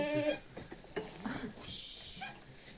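Young goats (kids) bleat in short, quavering calls, several in a row, close by, with a person speaking in between.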